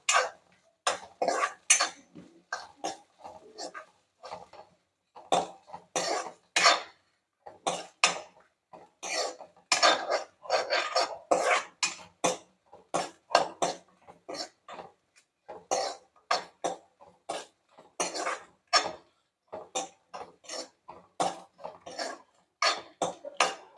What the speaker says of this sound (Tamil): நல்லா வதக்கி விட்டுக்கணும்.